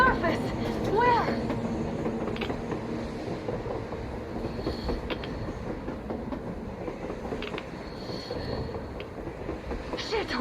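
A train rolls along on the surface in a post-apocalyptic shooter game, a steady rumbling, clattering roar that fills the whole stretch with a brief squeal near the start and talk layered over it.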